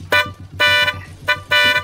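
A car horn blares in four loud, close blasts of uneven length with short gaps between them.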